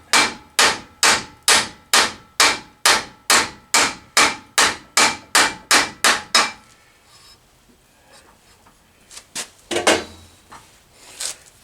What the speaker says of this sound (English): I've got a rawhide mallet that I'm going to use to drive it off.